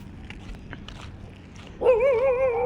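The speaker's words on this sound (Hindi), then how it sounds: "भाई कुत्ता भौंक रहा है" A dog at a house during a family Holi visit lets out a loud, drawn-out whining bark that starts abruptly near the end and holds steady over quieter background noise.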